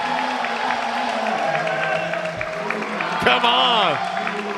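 A table tennis crowd at a Chicago vs. Florida match cheers and applauds steadily, a lively sustained roar under commentary with a shouted voice near the end.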